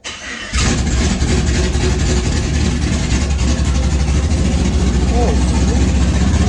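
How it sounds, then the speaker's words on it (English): Chevrolet Silverado with aftermarket headers and no muffler, its engine firing up and then holding a loud, raw, rumbling idle right beside the listener, with the rough exhaust note steady throughout. "see how she sounds with no muffler"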